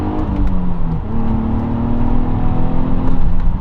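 Nissan Stagea 350 wagon with its RB engine pulls hard under acceleration from inside the cabin, a loud, steady rising drone with rumbling low end and no voices.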